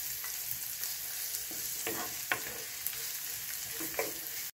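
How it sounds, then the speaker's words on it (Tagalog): Onion and chopped garlic sautéing in a pan, a soft steady sizzle broken by several sharp scrapes and taps of a spatula being stirred, close and fairly quiet, no voices. "Para sa paggigisa kailangan lang natin ng sibuyas, chopped garlic dito at hayaan lang itong maluto."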